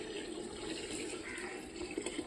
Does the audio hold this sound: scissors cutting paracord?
no